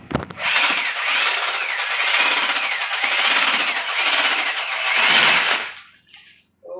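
An electric drill with many pens attached spins loudly and steadily for about five seconds, with a harsh buzzing whine and a faint repeating pulse, then winds down to silence.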